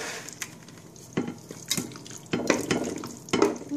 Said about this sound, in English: we're just going to spread that now in our prepared baking dish